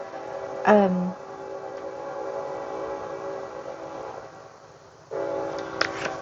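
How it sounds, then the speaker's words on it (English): A train moving very slowly rumbles steadily in the background, preceded by a short horn-like tone, with a low continuous hum that dips and swells again near the end. "Can you guys hear that train? It's going super slow."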